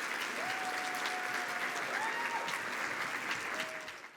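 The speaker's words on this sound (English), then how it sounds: "Can we give them all a round of applause as they join us on stage?" Applause from a conference audience at a general session as a group of people walks onto the stage, a steady moderate wash of clapping that fades toward the end, with faint tonal sounds over it.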